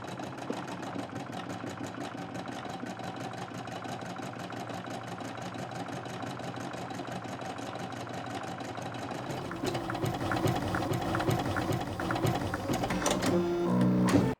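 A computerized embroidery machine stitches at a fast, steady mechanical rhythm close by, with a slight change in the whirring tone partway through and a few faint beeps near the end.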